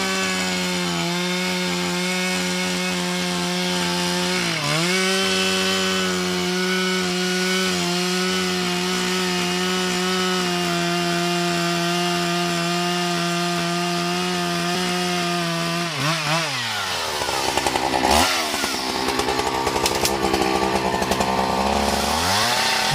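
A chainsaw with a 90 cm bar cuts into an old tree, a loud steady buzzing drone that bogs down and revs as the chain bites, ending in rough rasping and woody crackle.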